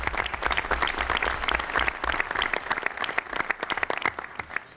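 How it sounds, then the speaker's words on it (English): Audience applause at a New York Rising community reconstruction conference hosted by the governor, a dense round of many hands clapping, loud and steady, tapering slightly toward the end with no talk. "We want to thank him and give him a round of applause."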